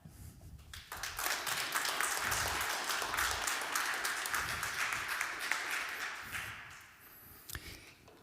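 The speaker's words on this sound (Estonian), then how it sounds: "Aplaus oli tormine" Loud, dense applause from an audience filling a hall at a regional business awards ceremony, sustained for most of the clip before thinning out and tapering near the end.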